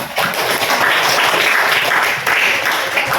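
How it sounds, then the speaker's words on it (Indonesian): An audience at an Indonesian Youth Pledge Day speech event breaks into steady, loud applause for the speaker, a continuous wash of clapping lasting a few seconds. "Sekali lagi tepuk tangan kepada pemateri."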